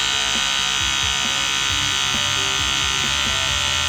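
A tattoo machine with a 5 round liner buzzes steadily while shading and stippling a skull tattoo, filling in an eye socket. The constant high-pitched electric hum runs close and loud throughout, with no talking.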